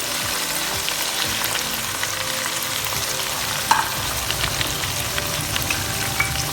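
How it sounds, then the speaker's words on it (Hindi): Steady, dense sizzling of powdered spices frying in a pan over a medium flame, with occasional scraping of a spoon stirring, close and continuous. "मसाले को हम 5 मिनट के लिए मीडियम फ्लेम पर अच्छे से भून लेंगे"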